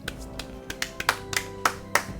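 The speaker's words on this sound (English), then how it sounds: "Standing ovation." Sparse, slow hand claps from the video game Nancy Drew: The Haunted Carousel ring out, about ten sharp claps at uneven intervals, growing slightly louder toward the end.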